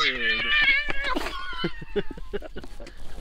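A house cat lets out drawn-out, wavering meows up close, followed by a person speaking French over a few softer sounds.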